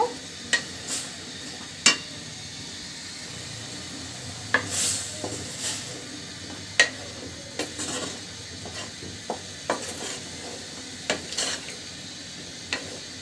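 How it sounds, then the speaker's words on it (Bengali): A spoon scrapes and stirs vegetables with spices through a catla fish curry gravy, with soft intermittent knocks and clinks against the pot over a faint steady sizzle, quiet and close. "এখন আমি এই ঝোলের ভিতরে দিয়ে দিব সবজিগুলো সবজিটা মশলার সঙ্গে ভালো করে মাখিয়ে নিব"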